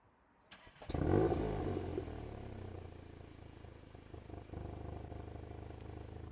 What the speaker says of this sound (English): That is a good exhaust note if you tell me.